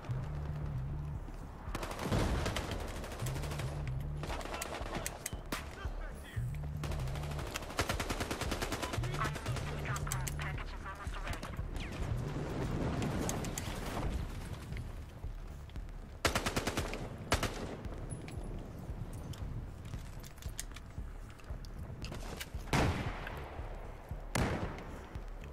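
Gunfire in the video game Battlefield Hardline, with rapid automatic bursts and single shots crackling loudly and continuously across the scene, some near and some distant, a voice briefly talking over it.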